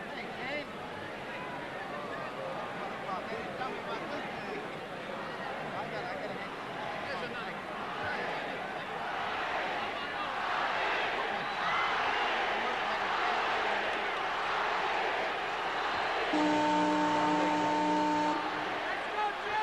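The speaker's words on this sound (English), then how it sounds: "The crowd is chanting Ali" A large arena crowd roars and chants during the March 8, 1971 Ali vs Frazier fight, a dense, swelling hubbub heard at a distance under steady commentary, followed near the end by a bell.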